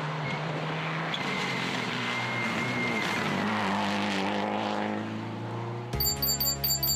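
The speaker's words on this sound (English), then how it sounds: "A Subaru Impreza R4." A Subaru Impreza R4 rally car roars at high revs on a 2013 Croatia Rally stage, engine note rising and shifting as it charges past, loud and close, with a burst of gear changes near the end.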